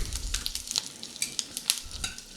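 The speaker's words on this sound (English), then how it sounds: "we're gonna brown these in the crock pot" Venison shanks, a front and a back leg cut near the joint, browning in a crock pot: loud close sizzling and crackling with sharp popping spatters throughout.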